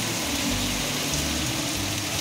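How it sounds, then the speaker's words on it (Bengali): Heavy downpour seen from a balcony, a dense, steady roar of rain with a low rumble underneath, continuous and fairly loud with no voices. "এখন একদম জোরে জোরে পড়ছে, মুষলধারে বৃষ্টি পড়ছে"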